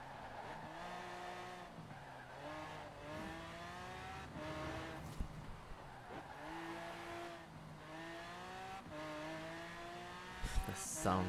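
AMC Gremlin X with oversized rims driven in Forza Horizon 4, its engine droning steadily with rising and falling rev sweeps and shifts, tire squeal hinting at skids, close and continuous throughout.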